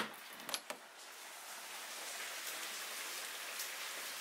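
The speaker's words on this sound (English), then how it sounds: "it's a rainy day" Steady rain falling outside near a marina, a dense even hiss of drops hitting surfaces, with a couple of faint clinks at the start.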